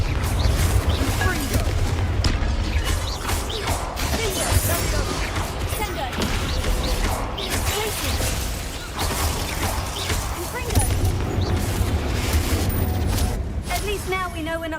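A Confringo blasting spell explodes inside a tomb in Hogwarts Legacy, a loud booming burst set in a dense, continuous game soundscape of rumbling effects and music.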